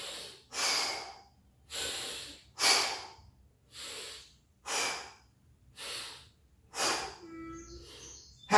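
Steady, audible exhales during a sit-up abdominal workout for the transverse abdominis, about seven even breaths spaced roughly a second apart, close and moderately loud with quiet gaps, and a brief higher tone near the end.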